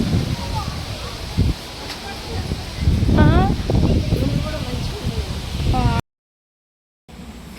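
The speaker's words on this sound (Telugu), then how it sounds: "ఈదురు గాలి" Gusty wind at a Shiva temple in Maddanpally rushes in a steady, rustling roar close to the microphone, with people talking through it before it cuts off briefly.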